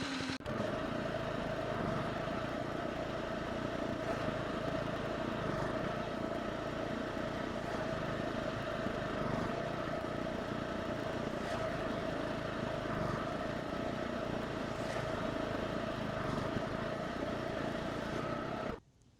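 A Revolution 26 reel mower cuts grass in a steady, continuous whir with a faint hum that holds evenly for about eighteen seconds before stopping abruptly.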